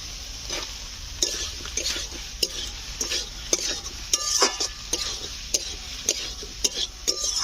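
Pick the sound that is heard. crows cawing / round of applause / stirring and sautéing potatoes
stirring and sautéing potatoes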